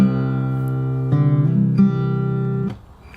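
Fingerstyle acoustic guitar plays a song, sustained chords ringing out with a few plucked changes, clear and close, then fading to quiet at the end.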